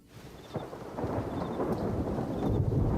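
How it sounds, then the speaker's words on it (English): Film thunderstorm scene from Interstellar: steady rain hisses throughout while low thunder rumbles and swells, growing heavier toward the end, with no voices. "There's something really special about the sound of rain."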